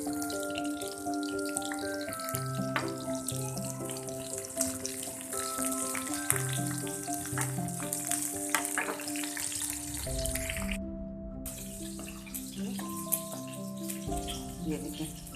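A hot tadka tempering sizzles into cooked dal in a dhaba-style home kitchen, a continuous crackling fry layered with background music and brief talk, with a sharper burst of sizzle partway through.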